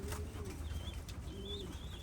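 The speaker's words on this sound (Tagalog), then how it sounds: "Mga ibon natin, rumoronda na." Soft pigeon cooing repeats in the background at a pigeon loft over a steady low rumble, fairly faint, with occasional higher chirps.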